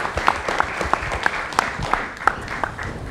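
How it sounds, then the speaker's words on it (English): Audience at a music licensing business event claps, a thin scattering of distinct individual claps heard fairly close rather than a dense ovation, with faint background voices. "So please give the foundation another round of applause."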